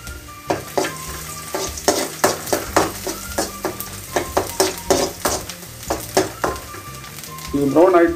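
Onions fry in oil for an anchovy fish curry, sizzling loudly and steadily while a spoon scrapes and stirs the pan in a quick repeated rhythm, close and unaccompanied by talk.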